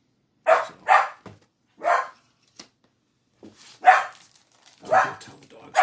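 Several dogs bark in short bursts, a few sharp barks spaced apart then another cluster, fairly close and loud in an otherwise quiet room.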